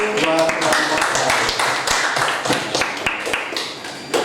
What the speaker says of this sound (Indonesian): kasih aplaus dulu buat kelompok saya